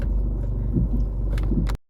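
A car rolls up close to a gate, its low engine rumble and tyre noise steady and near before cutting off abruptly at the end.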